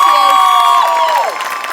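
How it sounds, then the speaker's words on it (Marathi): A studio audience cheers and applauds for Sulabhatai on the Marathi comedy show Maharashtrachi HasyaJatra, a short loud burst of claps and whoops with a voice rising over it. "तर एकदा सुलभाताईंसाठी टाळ्या"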